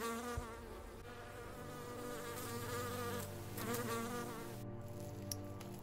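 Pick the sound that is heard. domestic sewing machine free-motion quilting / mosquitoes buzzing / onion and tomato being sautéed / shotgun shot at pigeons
mosquitoes buzzing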